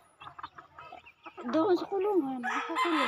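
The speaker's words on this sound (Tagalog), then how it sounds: "Ay, mga manok." Penned chickens clucking, with a rooster crowing in a rising drawn-out call in the second half, heard close and loud while a person talks over the birds.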